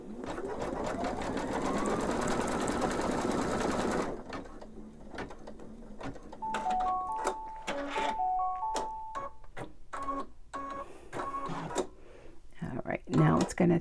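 An embroidery machine stitches rapidly to tack down elastic on a notebook cover, a dense mechanical buzz that stops, then resumes in shorter clicking bursts with brief electronic beeps while someone talks nearby.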